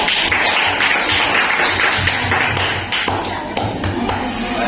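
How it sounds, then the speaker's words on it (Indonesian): A group in a classroom-style Islamic studies lesson claps together in a dense, close burst of hand taps mixed with thumps, with voices underneath. "Tepuk tangan untuk kelompok satu."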